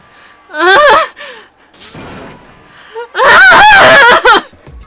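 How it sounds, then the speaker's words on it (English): A male character in the Danganronpa: Trigger Happy Havoc video game screams in anguish, with two loud, strained wailing bursts separated by quieter sobbing and gasping sounds. "As Taka's sad screams invade our skull"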